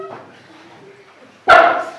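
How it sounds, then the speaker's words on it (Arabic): A single sharp dog bark bursts out loud near the end, after a quiet stretch with a faint voice and tone. "كلب"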